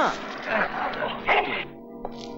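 A dog on a film soundtrack gives short yips and whimpering barks, close and fairly loud, mixed with other soundtrack audio and ending in a quick high yelp.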